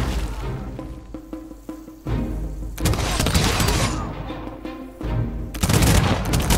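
A turn-based strategy battle in Humankind erupts into volleys of musket-style gunfire, first a few sharp separated cracks, then loud overlapping booming salvos in two heavy waves.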